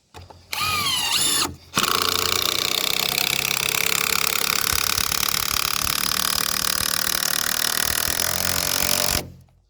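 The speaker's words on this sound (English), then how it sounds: "We'll put this timber screw down through here, and that'll be good to go." A power driver sinks a timber screw into a heavy timber rafter: a short whirring burst, a brief pause, then a loud, sustained grinding drive lasting several seconds before stopping.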